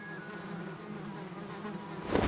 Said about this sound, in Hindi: आवाज भी मक्खियों के भिनभिनाने जैसी है।